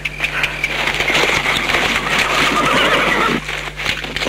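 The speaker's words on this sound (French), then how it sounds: "Selena, mettez les chevaux de l'autre côté du chariot." Horses near a wagon whinny loudly and repeatedly in a film scene, with shrill neighs and hoof shuffling under a low steady hum.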